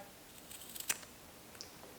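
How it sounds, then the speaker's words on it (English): Scissors snip embroidery floss while threads are cut for storage, giving a quiet, crisp metallic cut near the middle and a fainter click afterward, close up in an otherwise quiet room. "Give it a snip."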